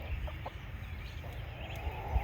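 A Barnevelder hen clucks softly in a backyard garden with the flock gathering near the house, a few short faint clucks over low steady background rumble.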